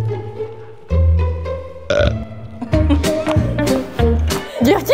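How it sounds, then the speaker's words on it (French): A long, loud, drawn-out burp with gurgling, shifting pitch, lasting several seconds and heard close up during a Quebec spelling contest. "t'as roté dans ton cahier."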